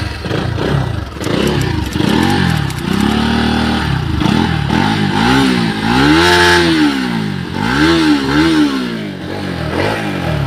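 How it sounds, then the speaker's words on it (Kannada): A Bajaj Pulsar NS200 BS4 motorcycle's engine and exhaust run close by, loud and alone, with repeated rising and falling revs and a throaty, slightly clattery exhaust note. "ಬನ್ನಿ ಒಂದು ಎಕ್ಸಾಸ್ಟ್ ನೋಡ್ಕೊಳ್ಳೋಣ ಯಾವ ಥರ ಇದೆ ಅಂತ."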